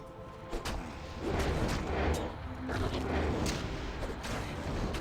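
Corpse Explosion spell effects in Diablo 2, a dense run of game explosions and booming thuds that rumble on continuously, mid-distance, with no talking.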